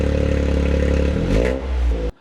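Revving exhaust of a GR Corolla with its center exhaust valve open, a loud close burst of engine roar that rises, then drops off and cuts out abruptly.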